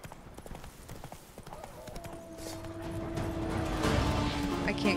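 A horse gallops in The Witcher 3 video game, with rapid, steady clip-clopping hoofbeats that grow louder and fuller toward the end.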